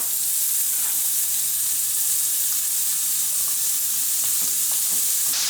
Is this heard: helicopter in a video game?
no